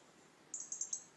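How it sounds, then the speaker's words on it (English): A small bird gives four or five quick, high chirps on a quiet country lane, faint against a soft outdoor hush, with no talk. "you can just about hear the birds and that in the background"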